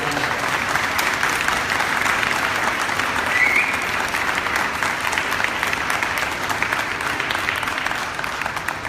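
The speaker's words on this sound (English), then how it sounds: "Let's give a round of applause." Steady applause from an audience at a drug awareness talk for parents and youth, dense and continuous clapping at a constant level for the whole stretch, with no voices standing out.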